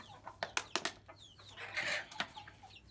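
Chickens cluck in short close bursts with a brief flutter of wings while grain is scattered for them, the calls rising and falling over a quiet background with no talking.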